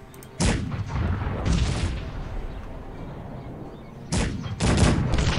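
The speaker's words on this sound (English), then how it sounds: "There's a cannon in there." Cannons fire in the strategy game Cossacks 3: two pairs of sharp, heavy booms arrive a few seconds apart, each leaving a rumbling tail of battle noise between the blasts.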